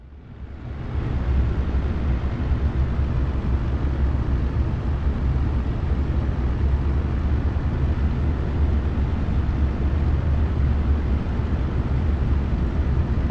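Focke-Wulf Fw 190 D-9 piston engine rumbling in the DCS flight simulator game, a steady, loud, dense low drone that swells in at the start and then holds evenly without talk.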